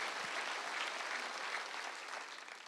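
Congregation clapping through a church worship service, a steady dense wash of many hands that holds evenly for the whole stretch and eases slightly toward the end, with no voices over it.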